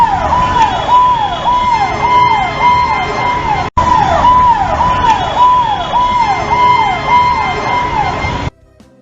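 A loud wailing emergency siren, an ambulance's, cycles up and down steadily and close by, with a brief cut midway before it drops away at the end.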